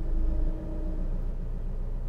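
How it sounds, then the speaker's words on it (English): Car engine growling low as the clutch is raised too high at the biting point while moving off, a quiet rough rumble that dips slightly and continues steadily. "the engine noise is gonna start to sound growly and angry"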